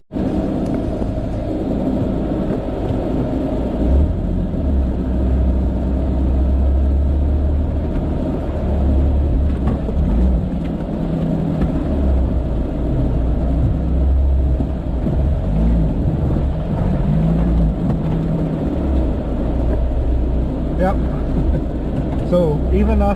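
A Geo Tracker with a swapped transmission and new transfer case gears drones and rumbles at low speed off-road, heard from inside, engine note rising and falling under continuous conversation.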